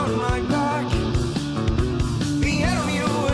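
Full-band rock chorus of a song, with an intricate lead guitar line over driving drums and bass, loud and continuous across a few seconds with regular punchy beats and no talking.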